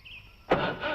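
A car engine cranks without catching: after a quiet half second, a sudden loud, rough, steady churning burst runs to the end.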